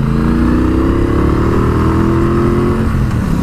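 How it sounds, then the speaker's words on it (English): A Triumph Bobber motorcycle with slash-cut exhaust pipes and a 270-degree firing order accelerates through an overtake, its engine note loud and close, rising steadily in pitch as it revs. "And to demonstrate the noise of that engine"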